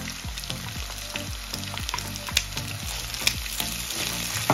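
Carrots fry in a pan for a kidney and potato pie, giving a steady close sizzle with a run of rhythmic low scrapes and stirs and a few sharper clinks.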